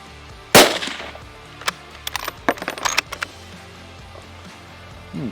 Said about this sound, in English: We're using the normally very high velocity 308 150 grain Hornady SST bullets. Let's see how they shoot.